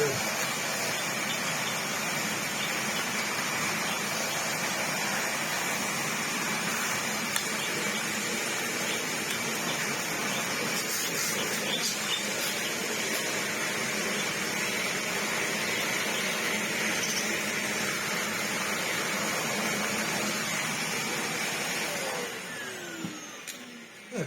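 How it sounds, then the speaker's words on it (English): A working Dyson vacuum cleaner, held upright, drones steadily and fairly quietly for a long stretch with a rushing airflow hiss, then cuts off near the end. "We've got a perfectly working Dyson here. It'll work well enough for this if I just hold it upright."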